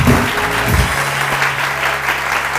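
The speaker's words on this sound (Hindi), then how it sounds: "बहुत सारी तालियां जी, बहुत सारी तालियां" Studio audience on a Pakistani TV morning show bursts into loud, dense applause that holds steady throughout, with a brief voice or music tone in the first moments.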